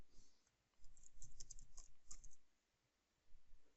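Typing VBA code on a computer keyboard: quiet bursts of key clicks with brief pauses between them, faint and close, with low room hum underneath.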